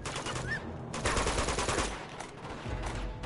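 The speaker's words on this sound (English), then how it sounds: "There's a machine gun over there!" Rapid machine gun fire rattles in a firefight in Uncharted 2: Among Thieves, loud sustained bursts with brief gaps between them, close and harsh against a busy combat backdrop.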